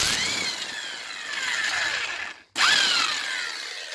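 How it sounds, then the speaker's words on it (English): Impact wrench removing a lower ball joint nut on a 2011 Kia Sorento LX AWD: a loud whining power-tool burst that drops out briefly, then starts again at close range. "Use an impact to take that off."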